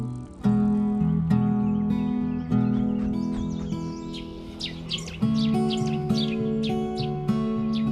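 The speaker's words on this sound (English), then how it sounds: "Birds singing around." Birds sing and chirp around a mountain meadow at Bir-Billing, with bright repeated calls from several birds over a steady sustained tonal drone, with no talk.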